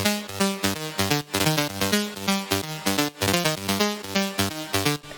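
Serum synth lead built from two saw waves and heavy white noise, processed with OTT, EQ and reverb, a bright, buzzy future rave line of rapid rhythmic stabs and shifting notes, loud and alone.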